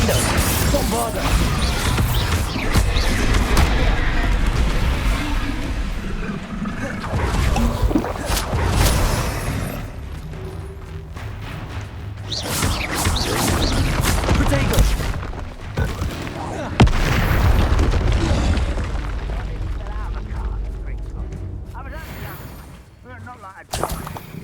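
Confringo and Bombarda spells burst repeatedly in Hogwarts Legacy, loud booming blasts and crashing impacts following one another in dense clusters, with short lulls between volleys.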